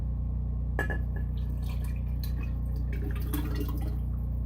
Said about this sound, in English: I'll pour that in the next jar.